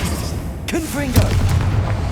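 The fire-blast spell Confringo exploding in the Hogwarts Legacy video game: a whooshing cast, then a deep boom with a rumbling tail, with a voice briefly heard.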